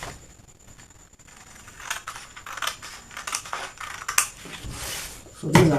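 Scissors cut through a paper corset pattern in a series of crisp snips and rustles, quiet at first and growing sharper toward the end, with no voices.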